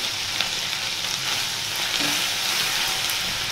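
Ginger paste with ground coriander and cumin fries in a pan of oil over medium heat, a continuous close hiss and sizzle with no voices.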